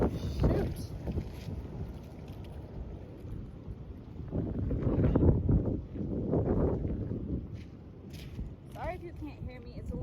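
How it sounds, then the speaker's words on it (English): Wind gusts rumble and buffet the microphone outdoors, swelling louder in the middle, with a person talking over the noise. "It's a little windy outside right now"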